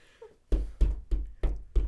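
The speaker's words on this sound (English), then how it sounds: "hobbled over to the bathroom to bang on the door" Banging on a bathroom door: five heavy, evenly spaced thuds, close and loud, each one booming and quickly fading, after a brief quiet start.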